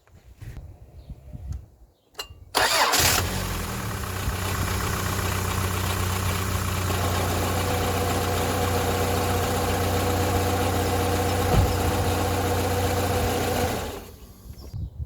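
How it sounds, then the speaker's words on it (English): A Rover 45 Impression S3 with a CVT gearbox cranks briefly, then fires and settles into a steady, loud idle with a low hum and mechanical whine that holds for about eleven seconds before cutting off. "we are going to try and start the car"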